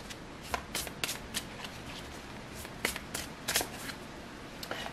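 Tarot cards are shuffled by hand for a reading, a close, quiet run of crisp riffling flutters and soft taps in uneven bursts, with no talking.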